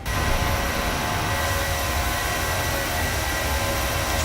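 An aircraft flyby in the X-Plane 12 and MSFS flight simulators, a loud, steady, broadband engine roar with a constant drone that holds throughout without a voice.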